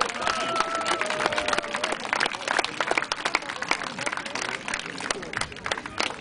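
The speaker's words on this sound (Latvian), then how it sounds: "Paldies, aplausi!" A crowd applauds after a display of ancient-style combat at a Zemgalian festival in Tērvete, thick sustained clapping under loud voices and some background music, filling the whole stretch.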